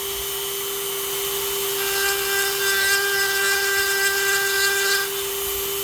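A Dremel rotary tool sands an olive wood pipe with a steady high whine and a gritty rubbing texture that swells in the middle, close and continuous with no speech.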